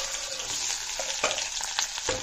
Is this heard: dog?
no